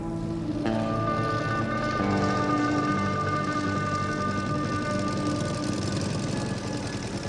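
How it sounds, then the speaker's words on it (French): A motorcycle pulling a cart runs its engine steadily in a quiet rural lane in Uzbekistan, a continuous droning hum with a faint whine held throughout. "C'est une moto, mais"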